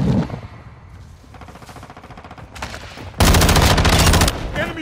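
Rapid automatic gunfire in Call of Duty: Modern Warfare 2 crackles in bursts, sparse at first, then a loud sustained volley near the end.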